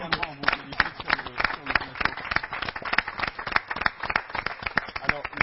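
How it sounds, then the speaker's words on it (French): An audience at a Grand Mbandja gathering with Lee Patrick applauds, dense rapid clapping replayed as a steady ongoing patter with a muffled, band-limited tone throughout. "on va d'abord vous faire revivre ce moment d'applaudissement que vous avez vécu"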